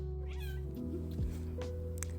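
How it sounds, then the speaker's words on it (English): A cat meows once, clear and close, its drawn-out cry rising and falling over a steady low electrical hum, with no one speaking. "Take that cat meow as a message if you wish."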